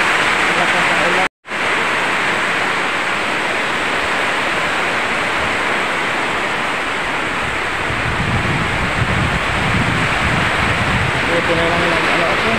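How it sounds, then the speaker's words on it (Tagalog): Heavy rain pours down in a steady, dense roar that fills the whole clip, with brief muffled voices underneath. "Malakas ang ulan."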